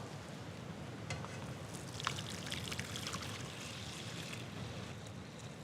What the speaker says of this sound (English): We can pour it into our bowl.